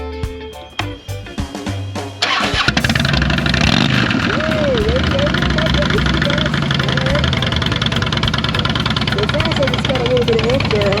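A beginner-sized motorcycle engine starts up after a few quick cranking clicks, then settles into a steady, loud, close idle that keeps running while people talk nearby.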